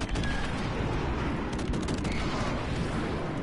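Modern Warfare Remastered online match: a dense run of rapid gunshots, pistol fire among them, crackles steadily through the whole stretch at moderate loudness, with no talk over it.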